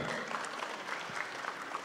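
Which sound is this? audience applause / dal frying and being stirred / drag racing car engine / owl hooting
audience applause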